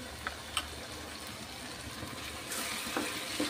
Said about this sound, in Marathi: आता हे वाटण सुद्धा आपल्याला तेलावरती मंद आचेवर परतून घ्यायचं आहे